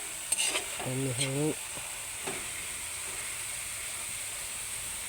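Cassava leaves stirred and sautéed in oil in a pan, a steady bright sizzle and hiss running throughout, with a brief spoken word early on.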